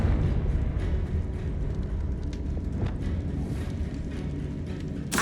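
A Confringo fire spell blasts in the Hogwarts Legacy video game, giving a sustained rumbling, roaring whoosh with low crackle that fills the whole moment at moderate loudness. No speech.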